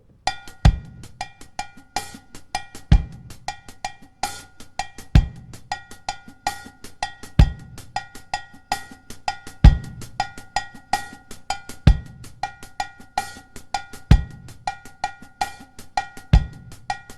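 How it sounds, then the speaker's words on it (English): A drum groove built on a clave-like pattern with bass drum and hi-hat, a bright repeating metallic click in a syncopated rhythm over regular low kick thumps and light ticking hats. "I start, then I add bass drum and some hi-hat footnotes,"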